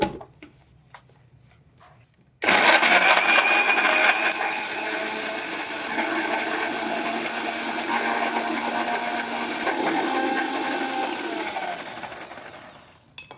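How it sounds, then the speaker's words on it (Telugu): A mixer grinder blends a weight loss drink with no added water, starting abruptly after a quiet moment and running as a loud, steady whir for about eleven seconds before cutting off. "So mixie పట్టేద్దాం."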